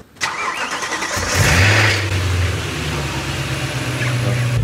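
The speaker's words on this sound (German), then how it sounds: "schmeiß den mal an, dann hören wir mal, ob der Auspuff jetzt mal dicht ist" A car engine cranks and catches, then settles into a steady, low rumbling idle close by, with a freshly sealed exhaust droning throughout.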